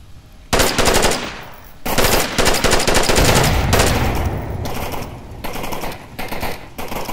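Loud automatic gunfire in the VR shooter Onward, set in a US town: several close, rapid bursts separated by short pauses, with steady firing carrying through the middle and no talking.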